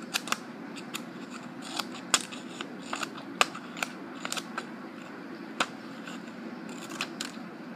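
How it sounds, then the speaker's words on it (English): Small scissors on a new Swiss Army knife snip through material, giving a series of sharp, close clicks and cuts spaced irregularly over a quiet background. "We're gonna test the sharpness on the scissors instead."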